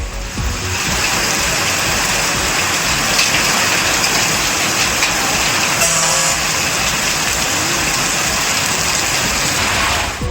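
Heavy rain pours in a dense, steady roar with road traffic passing through the wash, loud and continuous with no clear breaks and no speech.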